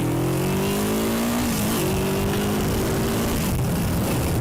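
A motorcycle engine revs hard, its pitch climbing and holding steady before dropping off, loud and close with no voices.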